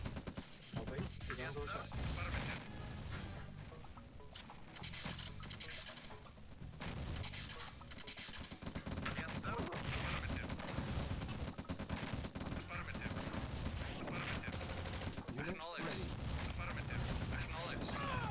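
Base defenses in the strategy game Command & Conquer: Red Alert open up on an enemy counterattack, a dense, continuous clatter of gunfire and blasts layered with game music and mechanical noise, moderately quiet, with a voice talking over it.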